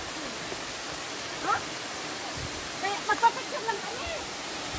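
Kawasan Falls in Trinidad, Bohol, roars with a constant, even wash of rushing water that fills the whole scene, while people's voices come through faintly and briefly over it.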